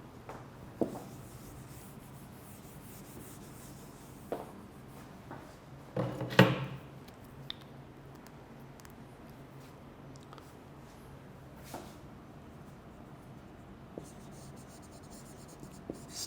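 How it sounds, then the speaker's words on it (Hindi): Handwriting during an online English lecture, heard as faint, scattered scratches of pen on paper in a quiet room with a few soft knocks and bumps. "मैं लिख भी देता हूँ"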